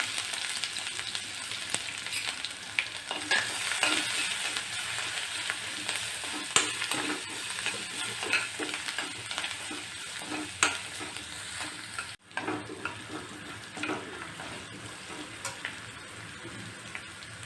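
Coarsely crushed green chilies, garlic and ginger frying in oil for a green gram curry, a continuous crackling sizzle with spatula stirring, close up, briefly interrupted near the end before resuming.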